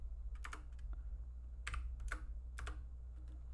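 Computer keyboard typing in short clustered bursts of keystrokes with pauses between them, close and fairly quiet over a steady low room hum, no voices.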